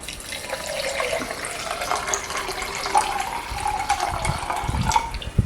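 Water is poured into a container to mix a Tang drink with sugar, a steady splashing trickle close by that continues throughout.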